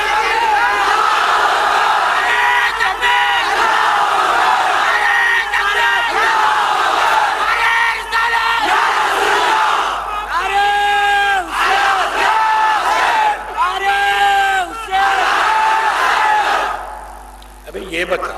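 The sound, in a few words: crowd chanting slogans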